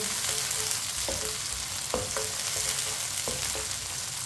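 Okra (bhindi) fries in a pan with a steady, loud sizzle, while a spoon stirs it and scrapes the pan in occasional sharp clinks.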